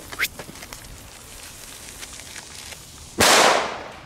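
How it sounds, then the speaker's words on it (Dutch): Belgian firecrackers set off outdoors, a sharp crack near the start and then a loud close bang with a hissing burst near the end, with faint voices in between. "leuke knallers"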